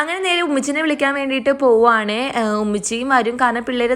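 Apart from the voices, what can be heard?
No everyday noise stands out behind the speech.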